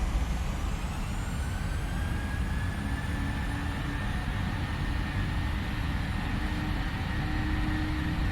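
Twin Boeing 737 jet engines at takeoff thrust in the PMDG 737NGXu flight simulator roar steadily and loudly throughout, a dense broadband rumble with rising turbine whines layered on top, with no talk over it.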